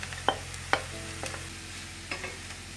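Carrot tipped into a pan of onion and garlic frying for a cheese soup with mushrooms, stirred with a few sharp scrapes and clacks over a low, steady sizzle, close and fairly quiet.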